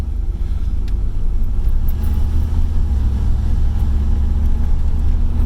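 Worn-out V8 engine of a third-generation Chevrolet Camaro on a test drive, a steady loud low rumble from inside the car with no clear revving peaks, constant throughout.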